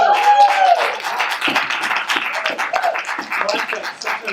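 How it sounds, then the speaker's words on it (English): A few people in a church audience clap briefly and unevenly, scattered hand claps that come close by and never build into full applause. "Sometimes you guys try to clap, it's like 2 of you, and nobody really commits."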